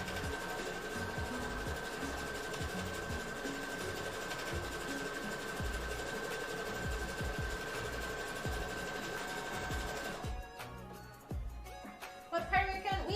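A sewing machine runs in a long continuous whir as it stitches the edging on quilted fabric for a Hinata cosplay shirt. The drone is steady and close, then breaks into uneven handling noises near the end.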